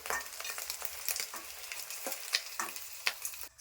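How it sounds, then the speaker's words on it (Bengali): Dried shrimp fry in a pan with a steady close sizzle, broken by a series of sharp scraping stirs from a spatula, with no voices. "আমি ওই যে শুটকি চিংড়ি ভাজছি, ওর মধ্যে আমি ফোড়ন দিচ্ছি, কালো জিরা দিচ্ছি"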